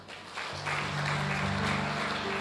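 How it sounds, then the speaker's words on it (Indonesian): Sustained clapping from a church congregation at a Christmas service, steady and full, with a held musical tone rising underneath. "Tepuk tangan buat Tuhan."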